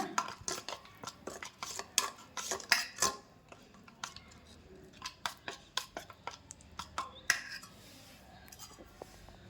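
A spoon clinks and scrapes against a bowl while spices are mixed for a paneer roll filling, a run of sharp, close metallic taps in quick irregular bursts with no talk.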